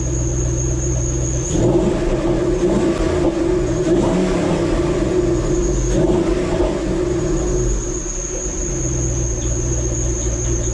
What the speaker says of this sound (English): Gotta love that supercharger belt whine.